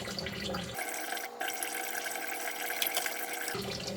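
Tap water runs steadily into a collapsible dish tub during dishwashing, a close, continuous gush that shifts in tone briefly midway, with no talking.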